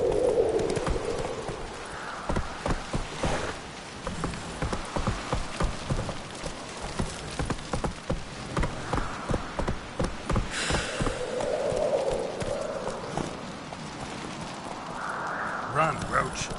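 Roach, a horse in The Witcher 3, gallops with a steady rapid clip-clop of hooves over a rain-like hiss, the rhythm continuing throughout while voices speak over it.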